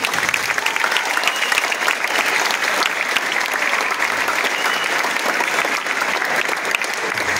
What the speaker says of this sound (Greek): θέλω καταρχήν ένα ζεστό χειροκρότημα για την χοροδία του Μαστού.